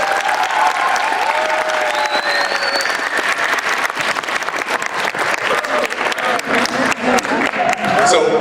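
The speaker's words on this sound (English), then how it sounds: "give our special visitors the loudest round of applause you can muster right now" A large audience applauds loudly for special visitors, steady dense clapping with some cheering running the full length at close range, alongside a faint whistle-like tone early on.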